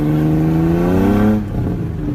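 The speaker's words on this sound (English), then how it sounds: "listen to that VTEC" A Subaru engine revs hard at night, rising harmonic tones climbing steadily for over a second before the revs drop off and settle into a lower idle, loud and close.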